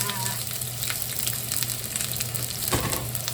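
Oil sizzling and crackling steadily in a wok, heating up before cauliflower fried rice with shrimp, a continuous close frying hiss with a brief louder flare near the end.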